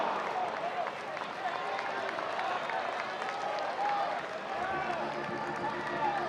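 A big crowd at an Auburn vs NC State baseball game roars and claps in a steady, dense wash of noise that lasts the whole stretch, with a broadcaster's voice faintly underneath.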